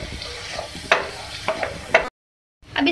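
Beef keema cooked with crushed red chili, turmeric and coriander is stirred in a hot pan, several scraping strokes over a constant sizzle, then a brief cut to silence before the frying resumes.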